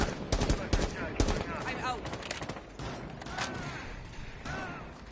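Gunfire in a ranked match of Rainbow Six: several sharp shots and quick bursts of varying loudness in the first couple of seconds, then sparser shots, with voices talking over the shooting.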